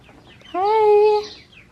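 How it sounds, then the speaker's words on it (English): A chicken at Northwest Park in Windsor, Connecticut lets out one loud, close, drawn-out clucking call lasting under a second, with quiet surroundings before and after. "Oh, look at that. The chicken is basically listening to me."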